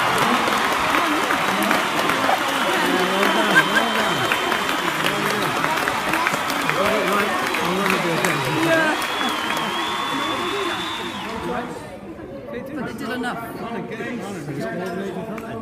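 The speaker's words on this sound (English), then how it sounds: "Come on, well done, a big round of applause." Audience applause fills a school hall as winners of a STEM robot game are announced, a dense steady clapping with some cheering and chatter that thins out near the end.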